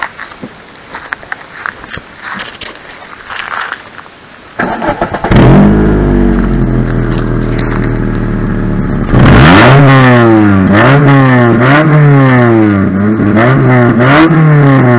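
A Mitsubishi Carisma 1.8 petrol engine rated at 116 hp cranks and catches, settles into a steady idle, then is revved hard several times in rising and falling sweeps, loud and close, after a brief spoken word.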